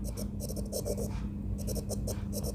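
A pen or chalk writes out math equations for a class 9 lesson, producing rapid scratchy strokes in two bursts separated by a short pause, close and fairly loud over a low steady hum.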